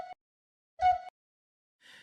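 A vibrating ocarina sample in Audacity sounds as two brief wavering tones separated by silence, followed by a fainter fluttery tail, all quiet and isolated.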